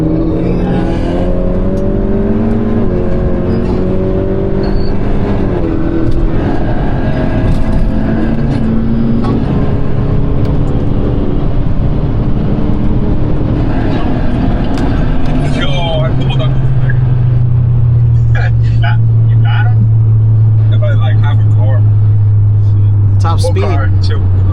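Turbocharged Honda Accords and a Civic Si racing, heard from inside a car: a loud, steady engine drone with rising and falling tones as the cars accelerate, and people talking over it.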